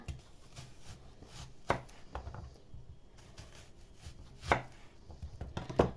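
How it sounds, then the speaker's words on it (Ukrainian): An onion sliced into rings with a knife on a cutting board, irregular close knocks of the blade hitting the board, a few louder thuds among softer cuts, no talk. "Кільця показую, як ріжу."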